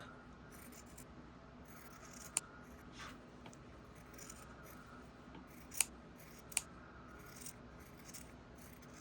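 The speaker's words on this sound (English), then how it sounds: "we want to take our scissors, trim down our seam allowance by half" Quiet snips of scissors trimming fabric seam allowance, a few sharp isolated clicks spaced seconds apart against a soft, hushed background.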